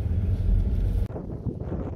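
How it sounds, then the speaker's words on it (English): Strong wind buffeting the microphone beside a lake near an old restaurant, loud blustery roar for the first half, then easing to lighter gusts. "Very windy"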